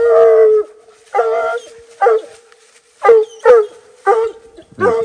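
Black and Tan coonhounds on a coon hunt bay and howl in a series of about seven drawn-out calls, the first long and the rest shorter, loud and fairly close, with short pauses between them and no talk.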